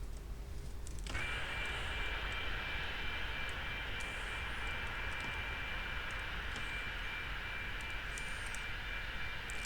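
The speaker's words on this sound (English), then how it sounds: "There's a little plane taxiing." A small airplane taxiing in the X-Plane 11 flight simulator game: a constant engine drone and whine, loud and unbroken throughout, rising as a high steady tone kicks in after the first second.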